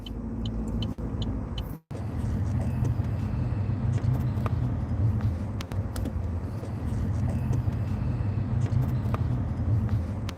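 Road traffic near the George Washington Bridge makes a continuous, close engine rumble with tire roar, broken by one brief dropout near the start.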